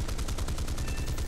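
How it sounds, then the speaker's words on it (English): Four 20mm cannons on a Typhoon Mk. 1B fighter fire in War Thunder, a loud, continuous rapid burst of heavy pounding shots. "those 4 20mm cannons really do rip things to pieces"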